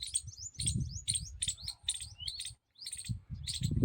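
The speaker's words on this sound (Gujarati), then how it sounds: "ખિચકોલી કેવી બોલે છે જો અવાજ આવે છે ખિચકોલી જો રઈ આંબલીની ઉપર" A squirrel perched in a tamarind tree gives rapid series of sharp, high chirps in a steady rhythm, pausing briefly before resuming, with soft low thumps underneath at moderate distance.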